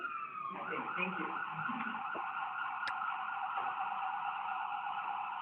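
An emergency siren wails continuously in the distance, a sustained high tone with faint traffic noise beneath it.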